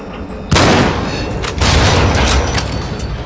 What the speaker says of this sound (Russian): Надо выстреливать.